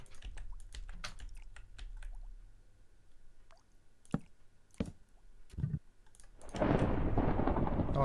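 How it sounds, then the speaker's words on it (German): Thunder in the Minecraft modpack All The Mods 7: light keyboard typing and mouse clicks come first, then a loud, broad rumble of thunder swells in and carries on to the end, with no talking. "Da donnert es erstmal."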